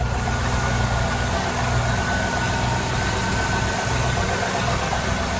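A boat engine, bigBlue, idles steadily just after a new riser and exhaust manifold were fitted, giving a constant, close, even rumble with no voices over it.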